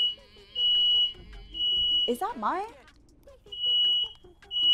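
A household smoke detector gives long, steady, piercing beeps that repeat in a loud on-off pattern, with someone talking over and between them during a GTA roleplay session.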